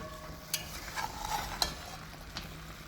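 Browning stewed pork in a pot is turned with a spoon, giving soft scraping stirs and a few sharp clinks against the pot over a low, steady sizzle, with no talking.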